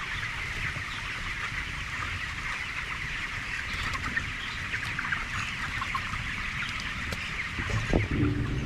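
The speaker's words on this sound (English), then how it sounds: "these are cage-free chickens. These are not raised in cages." Cage-free chickens fill a long poultry house with a dense, steady chorus of clucking and chatter, constant and moderately loud with no talking.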